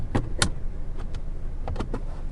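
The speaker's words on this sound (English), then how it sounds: "you have your automatic shade control for the rear shade" Automatic rear window shade on a 2021 Genesis G80 sedan, its electric motor giving a few short whirring runs and soft clicks, close by and fairly quiet.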